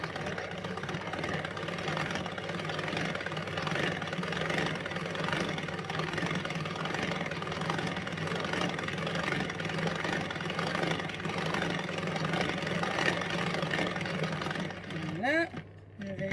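A Tupperware mixer whirs steadily at its lowest speed, a buzzing motor drone with a person talking over it and a brief clatter near the end.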